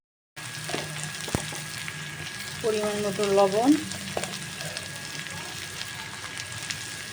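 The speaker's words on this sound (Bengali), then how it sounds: "কড়াইটা তেল দিয়ে গরম হলে আগে পেঁয়াজটা ভেজে নেব।" Onions fry in hot oil in a kadai for a prawn and onion chorchori, making a steady soft hiss with a brief clatter partway through, while someone speaks over it.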